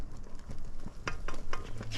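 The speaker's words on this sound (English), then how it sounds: "Let's stir in our powdered milk." Powdered milk gets stirred into a Guyanese sugar cake mixture in a pot, with close scraping and soft taps from the spoon and no talk.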